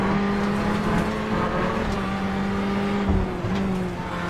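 Onboard Ferrari race car engine at Monza in a sim-racing series, a steady loud droning roar held at high revs with a brief dip near the end, alone with no talk.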